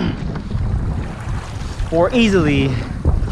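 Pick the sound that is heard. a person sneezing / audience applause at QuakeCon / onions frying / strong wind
strong wind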